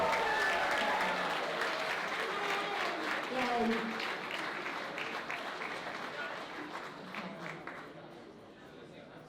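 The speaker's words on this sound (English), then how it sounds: "Huge applause for all of those great people." Audience applause at a 20th-anniversary community celebration in Pleasantville, a dense wash of many hands clapping that fades gradually, with a voice calling out over it.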